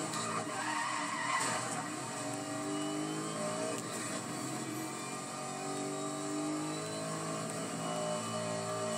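Car engines drone and whine steadily while tires squeal and skid almost continuously in a Need for Speed: Most Wanted police chase with a Bentley, a busy, synthetic-sounding racing mix with no talking.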